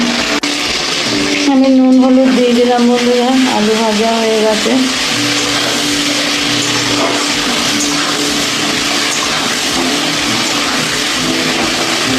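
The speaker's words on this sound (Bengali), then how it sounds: "আলুগুলো ভেজে নিই ভালো করে" Potatoes frying in a pan give a continuous, loud hissing sizzle that fills the whole stretch, with a voice or tonal hum rising over it early on.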